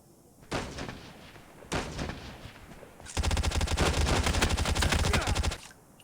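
A sniper rifle shot in an online battle-royale shooter game: two sharp loud cracks about a second apart, followed by a sustained burst of rapid repeated gunfire lasting over two seconds, with no talk over it.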